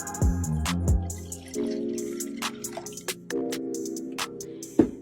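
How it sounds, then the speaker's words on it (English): Moon water poured from a container into a bowl along with ingredients such as sea salt and olive oil, a run of close, clear liquid splashes and drips with a few sharper plops, heard with no talking. "I'm going to pour in the moon water"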